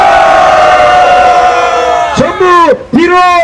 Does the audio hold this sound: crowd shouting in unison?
yes